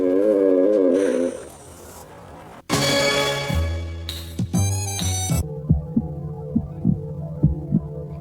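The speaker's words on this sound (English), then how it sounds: "Hear that? It's the sound of a heartbeat." A human heartbeat thumps in a slow, steady series of soft low beats after a stretch of humming tones and musical sounds.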